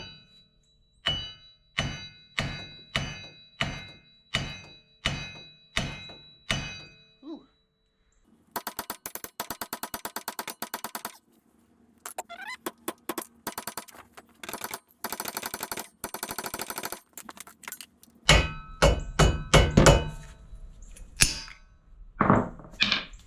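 A big hammer strikes a car hub wheel bearing assembly in a series of about nine sharp, evenly spaced metallic blows. Rattling clanks and more irregular hits follow, all close and loud.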